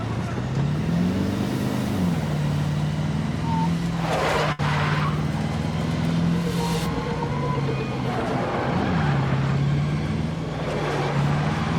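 A car driven in the Call of Duty Modern Warfare III video game gives a steady, loud engine drone whose pitch rises and falls as it speeds up and eases off, with faint scattered game effects behind it.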